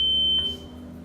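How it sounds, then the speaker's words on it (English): A single sharp high electronic beep from a voting machine being set for candidates, a sustained steady tone that cuts off abruptly, over a low electrical hum. "You will see Set Candidate flashing with a beep sound."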